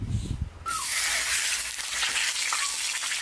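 Beef head pieces pan-fry in a wok, starting with a sudden loud sizzle and then settling into a steady, close hiss with faint scraping.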